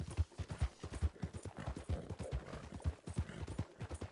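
A horse's hooves clip-clop at a steady walking rhythm in Red Dead Redemption 2, the evenly spaced thuds soft and moderately close with no talk over them.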